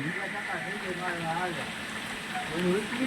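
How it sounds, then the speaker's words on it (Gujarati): Light rain falls in Moti Gop, Gujarat, as a steady, soft hiss with a voice talking over it throughout. "અત્યારે વરસાદ થોડોક રહી ગયો છે"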